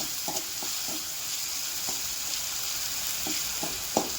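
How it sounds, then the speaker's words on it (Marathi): Ground spice paste with curry leaves sizzles steadily in a pan for vada pav, a close, even frying hiss broken by a few soft scrapes and taps of stirring. "चांगलं त्याला परतून घेते."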